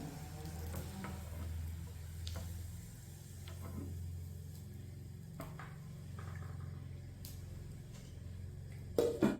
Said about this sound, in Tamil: இதுக்குள்ளே இப்போ தாளிக்க கடுகு கொஞ்சம் போடுறேன்